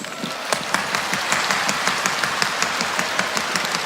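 An audience at a live Uzbek comedy show applauds in a dense, steady stretch of clapping with a slightly rhythmic pulse, fairly loud and continuous, with no talking over it.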